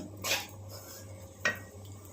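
A spoon stirring a soya chunk, coconut and carrot curry with a little garam masala in a pan, making two distinct scraping clanks about a second apart over a faint steady hum.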